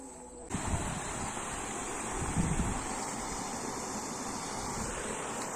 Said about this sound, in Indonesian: Di sini adalah aliran sungai teman-teman.